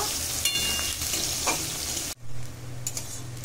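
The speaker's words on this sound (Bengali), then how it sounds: "দিয়ে দিচ্ছি কেটে রাখা পেঁয়াজ। পেঁয়াজ খুব ভালো করে কষিয়ে নেব।" Chopped onions fry and crackle in hot oil in a pan, stirred steadily for a few seconds with a brief break in the sizzle midway.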